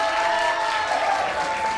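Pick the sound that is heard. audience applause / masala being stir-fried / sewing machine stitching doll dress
audience applause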